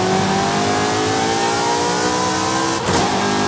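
A car engine in Forza Horizon 5 revs hard and steadily, its pitch climbing until a downshift near the end gives a short drop and a sharp snap back up. No one talks over it.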